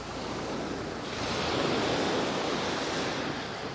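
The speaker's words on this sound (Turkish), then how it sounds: "Böyle güzel dalga sesleri eşliğinde." Sea waves wash steadily onto a beach on the Mediterranean shore at Mersin in winter, a continuous broad rushing surf that swells slightly in the middle, close and fairly loud with some wind.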